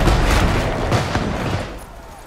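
A rapid burst of gunfire from a tower in the video game Shadow Tactics crackles and booms, loud and close, fading slightly toward the end with no voices.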